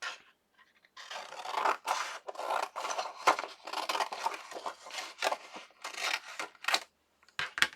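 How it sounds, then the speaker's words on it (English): Scissors snip out a paper tag in a series of close, crisp cuts and rustles, irregular bursts separated by short pauses, with no talking. "So I'm just going to cut one out real quick."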